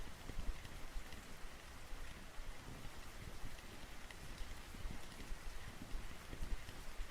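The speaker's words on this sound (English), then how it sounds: "How is it still raining on here?" Steady patter of rain in the video game Russian Fishing 4, a soft continuous hiss with scattered drops and faint wind, with no voices.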